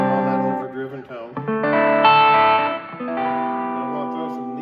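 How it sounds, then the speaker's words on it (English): Overdriven electric guitar through a church worship pedalboard's distortion effect rings out sustained, reverb-washed chords and notes, loud and close, with the tone swelling and shifting between phrases. "I'm on that overdriven tone."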